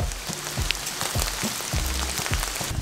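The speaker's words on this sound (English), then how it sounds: "It's really raining." Steady heavy rain pattering on an outdoor surface in a garden while compost tea ingredients are gathered, a dense continuous hiss with scattered louder drips, close and unbroken for the whole stretch.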